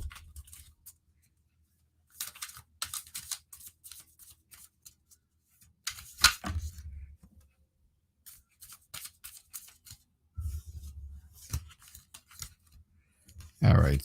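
Tarot cards are shuffled in several quick riffling bursts separated by pauses, close and crisp, with some brief talk between them.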